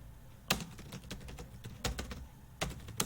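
Keys clatter on a computer keyboard as Docker Compose commands are typed, with three louder bursts of rapid strokes and lighter taps between them, close and dry with no voices.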